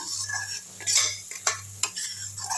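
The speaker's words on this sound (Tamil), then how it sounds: "அப்படியே எண்ணெய் பிரிஞ்சு வருது. அப்படியே கிண்டி விட்டுருங்க." A spoon scrapes and stirs garlic pickle sizzling in oil in a heavy-bottomed pan, with a steady hiss of frying broken by a few sharp metallic clicks against the pan, close and without voices.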